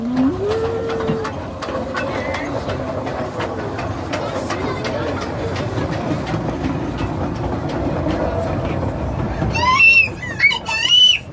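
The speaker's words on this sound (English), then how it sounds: "Now, Drew might have more people on his train, but I've got the bigger whistle." A narrow gauge railroad steam train whistle sounds in the distance early on, then near the end several loud close whistle blasts rise over the rumble of the moving train.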